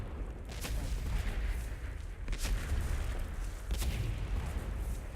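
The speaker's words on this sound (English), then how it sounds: "Fire the cannons!" Several heavy cannon booms fire at intervals over a constant rumbling World of Warcraft soundscape, each blast sharp and loud.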